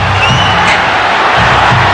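Home crowd at a 1997 Super League tri-series rugby league match between Queensland and New Zealand, a loud broad roar of many voices swelling steadily, with a faint commentator voice underneath.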